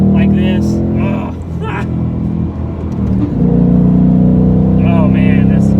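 A 2018 Mustang GT Performance Pack V8 revs hard and drops back between gear changes, its deep rumble loud and close while someone talks over it.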